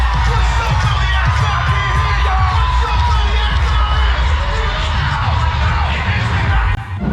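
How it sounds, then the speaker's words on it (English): A dense crowd lining the NYC Marathon course in Brooklyn cheers runners on, a loud continuous roar of shouts, whoops and applause close by, with some voices carrying over the din. "Look at all the people that are just there to cheer on these runners."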